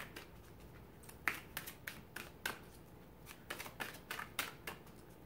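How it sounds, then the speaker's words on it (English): Tarot cards riffle and flick in a rapid series of crisp, soft snaps, close up, with short pauses between bursts of shuffling. "One more shuffle now."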